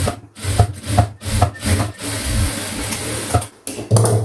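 A sewing machine stitches a blouse seam, its needle running in short rhythmic bursts with brief pauses, a close mechanical whirring and thumping.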